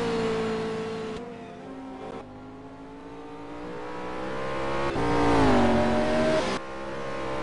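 Jaguar GT race car engine in a sim racing video game at Spa, revving loudly with shifting pitch, dipping near the second mark and climbing again toward the end, with no talk over it.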